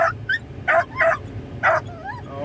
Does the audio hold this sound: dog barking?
yes